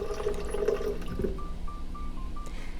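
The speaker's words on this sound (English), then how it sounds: "now add 1 cup of water" A cup of water poured into a blender over juice-shot ingredients, a short close splash and trickle that fades into quieter room sound.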